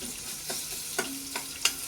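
Tomatoes cook down in a hot pan for a cashew curry, a constant close sizzle broken by a few soft scraping stirs of a spoon, with no talking.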